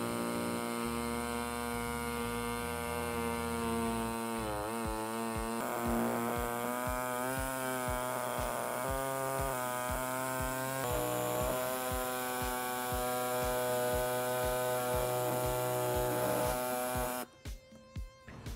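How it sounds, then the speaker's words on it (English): Pneumatic air saw trimming a plastic rear bumper cover on a 2019 Hyundai Elantra during trailer hitch installation: a steady, loud buzzing whine with a rapid reciprocating chatter, running continuously before stopping abruptly near the end. "we'll be using the air saw to make the cut"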